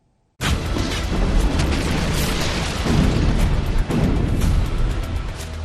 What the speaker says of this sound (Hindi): मिसाइलों के हमले से बिल्डिंगें धराशायी हो रही हैं।